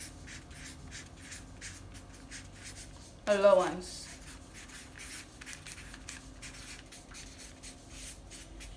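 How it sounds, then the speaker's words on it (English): A pen scratches across a paper sewing pattern for an asymmetrical hem dress, with soft, quick strokes running throughout and a brief spoken word partway through. "Let me write that so that you don't get confused."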